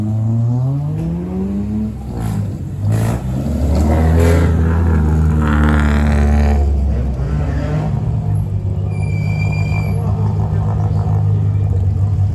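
A Citroën Saxo rally car at a rally stage start revs hard and repeatedly, its engine note sweeping up and down, then holds a steady loud drone.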